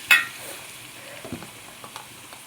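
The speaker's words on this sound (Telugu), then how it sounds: "గరిటెతో కదుపుకుంటూ ఉండాలి. ఉల్లిపాయలు ఉల్లిబందు బాగా వేగినాయి." Onions fry quietly in a pan while a ladle stirs them, a soft sizzle with scattered scrapes and clinks, close and faint.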